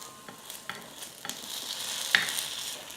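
Paniyaram sizzle in a pan just after being flipped: a soft, steady frying hiss builds gently, broken by several light clicks and scrapes of the turning tool, close by with no talking.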